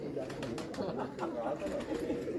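Soft, rumbling coos from competition racing pigeons in Punjab fill a short stretch, fairly quiet and steady, with some talking underneath.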